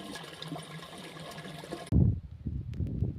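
Water gushing from a farm irrigation pipe in a cumin field, a steady broadband rush that abruptly switches to a closer, louder splashing flow with bubbling surges.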